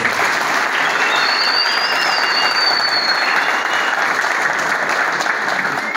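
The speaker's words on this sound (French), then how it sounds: "Applaudissez pour les présidents." Audience applause for the presidents at an event in Kasumbalesa, steady dense clapping filling the whole stretch at an even level, with a faint whistle-like tone drifting above it partway through.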